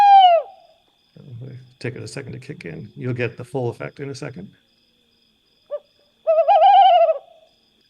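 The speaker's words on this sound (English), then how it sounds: "So I was up at 4 in the morning hearing this tawny owl." A tawny owl's recorded call, played back from a device in Italy, sounds briefly at the start and again near the end, with someone talking in between.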